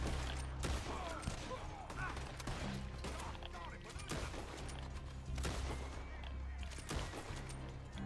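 Springfield rifle fire in Red Dead Redemption 2, with sharp shots and gunfire bursts over a busy game soundscape, and players talking at times.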